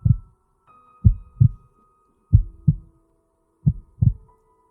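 Muffled heartbeat pulses in paired thuds, three beats repeating at a steady pace, deep and close with a faint hum behind.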